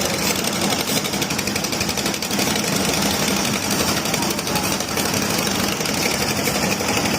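Engines of sand-carrying trawler boats at a busy river sand-loading site in Sylhet give a loud, steady, rumbling diesel chug that fills the whole stretch, with faint voices mixed in.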